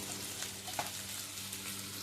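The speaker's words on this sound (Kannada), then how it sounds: "ಈರುಳ್ಳಿ ಹಾಕಿದೆ. ಒಂದು 4 ಕಾಯಿ ಮೆಣಸು, ಒಂದು 10 ಹೆಸರು ಬೆಳ್ಳುಳ್ಳಿ ಒಟ್ಟಿಗೆ ಹಾಕಿ ಫ್ರೈ ಮಾಡುವ." Onion, green chillies and garlic frying together in a pan, a steady close hiss and sizzle with a faint stir, no talking.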